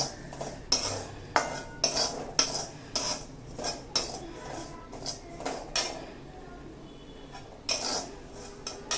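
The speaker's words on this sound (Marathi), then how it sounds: "ओवा सुद्धा छान भाजून घ्यायचा." Carom seeds (ajwain) dry-roasting in a pan while a utensil stirs them, giving repeated scraping and clinking strokes at a steady, fairly quick rhythm, close up with no talking.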